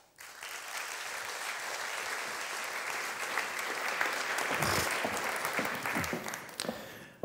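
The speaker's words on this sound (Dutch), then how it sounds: "uw warme applaus graag voor Jurgen ter Rijt" Warm audience applause at a hospital public lecture evening, a steady, dense clapping from a large seated crowd that swells slightly and then tapers off near the end, with no talking over it.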